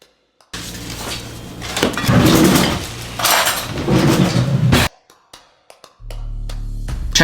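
Chopped cucumber tossed with sugar and salt in a bowl, bursts of clattering and scraping against the bowl in two main rounds, fairly close and loud, followed by quieter isolated taps and a low steady hum.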